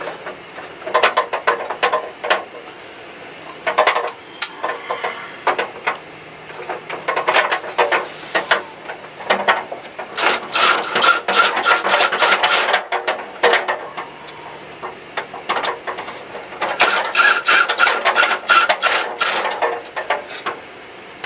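A power drill set to low torque drives screws into a plastic ice dispenser door with repeated whirring, ratcheting bursts, some short and some longer, separated by brief pauses, close and fairly loud.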